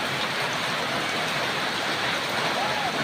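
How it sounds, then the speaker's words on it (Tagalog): Heavy rain pours down in a dense, steady roar of broadband hiss that stays close and loud throughout, with no pauses and no voices over it. "Ang lakas ng ulan mga idol, no?"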